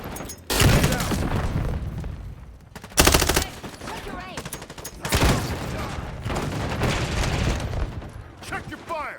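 Heavy gunfire and explosions in the video game Call of Duty MW4 multiplayer: loud dense bursts of automatic fire with booming blasts, near and continuous, and radio-style voice callouts over the top.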